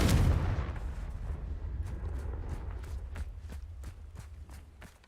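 A Confringo fire spell cast in the Hogwarts Legacy video game, a loud blast opening the clip that trails off into a string of rapid crackling pops and impacts.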